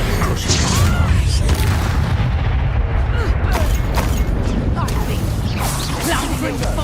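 Explosive spell blasts during a Hogwarts Legacy duel, loud booming impacts bursting out repeatedly over dense, continuous combat noise, with shouted voices mixed in.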